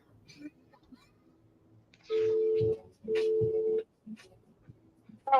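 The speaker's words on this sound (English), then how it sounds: "The phone line is ringing." A telephone line rings with two steady tones, each about a second long, separated by a short pause, clear and moderately loud over faint background noise.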